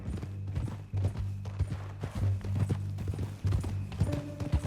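Horse hooves clip-clop steadily in the video game Red Dead Redemption 2, a rhythmic trot of close, moderately loud beats over a low droning background score.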